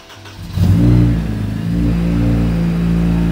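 A Honda Civic Type R engine fires up and revs hard, then settles into a deep, loud, steady idle rumble close by.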